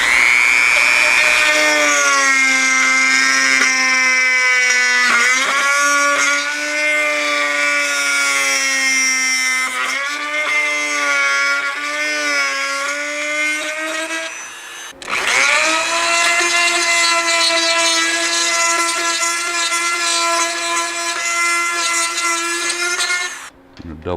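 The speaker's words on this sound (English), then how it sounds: "what I'm going to use is a Dremel tool, something like that, to go ahead and cut the rest of that hole out" A Dremel rotary tool cuts an oval hole during a motorcycle lower-fairing LED light install, giving a loud, steady high-pitched motor whine whose pitch sags and wavers under load, in two long continuous runs with a brief break between them.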